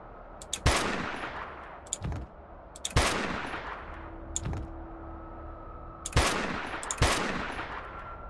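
Gunfire in a battle in the video game Dustland Delivery, heard as several separate loud shots or short bursts. Each one rings out and decays into a long echo, with gaps between the blasts.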